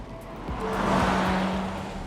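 VW Tiguan SUV driving down a road, heard from inside as a steady, loud engine and tyre rumble with a gentle swell in the middle, continuous and without talking.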